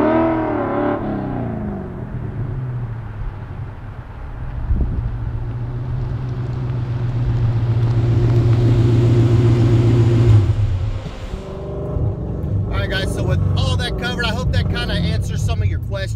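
A Coyote-engined race car revs hard, a rising, sustained engine roar that swells and fades over several seconds, with wind buffeting the microphone and rattling noise near the end.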